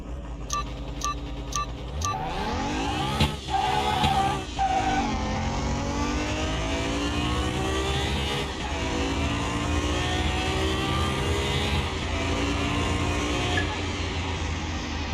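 A Mustang racing in the PC game Car Mechanic Simulator 21: the engine revs hard from the start, tires squeal, and it pulls through rising gear shifts, loud and steady with no talk over it.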